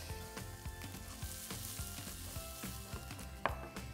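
Chopped chard stalks and curry powder sizzle in a pan, a constant close frying hiss broken by clinks and taps of a utensil, no speech.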